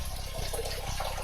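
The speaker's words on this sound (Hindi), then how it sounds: "पानी फिर से ऑन हो गया है।" A washroom water tap running steadily, a close, dense rushing hiss that fills the whole moment without breaks or voices.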